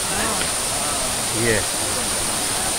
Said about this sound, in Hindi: आ गए हैं दूध वाली वाटरफॉल झरने पे